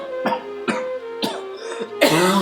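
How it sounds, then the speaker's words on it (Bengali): A man coughs in four or five harsh, chesty bursts spaced about half a second apart, close and loud, ending in a longer rasping fit. "আরে এইভাবে কাশতেছেন কেন"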